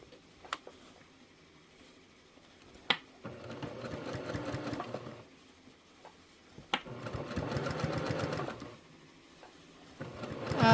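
A Kimberbell-project sewing machine (a 1500 model) stitches through thick quilt layers in two sustained bursts of rapid rhythmic whirring, with brief clicks and pauses between runs and another start at the end.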